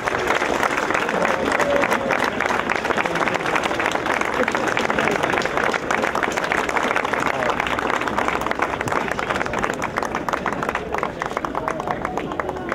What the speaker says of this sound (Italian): Michael Schumacher, eccolo qua, grande applauso, grazie Michael.